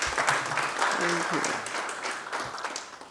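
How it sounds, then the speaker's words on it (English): An audience at a ceremony naming a local organising committee for an AFCON bid breaks into applause, a soft patter of clapping running beneath a speaker's voice that fades slightly toward the end. "I would like to ask the audience to clap for you."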